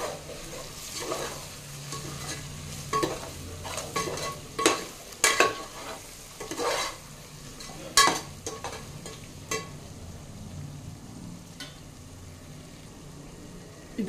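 Spices and vegetables for vegetable dum biryani are stirred in a pan, with repeated scraping and clinking of the spoon over a low steady sizzle, close and fairly loud.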